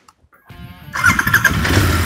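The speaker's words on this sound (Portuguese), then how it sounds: "é hora então de a gente ligar o motor dela" Royal Enfield Interceptor 650 motorcycle starting: a brief starter whine, then the engine catches and settles into a loud, close, steady idle rumble.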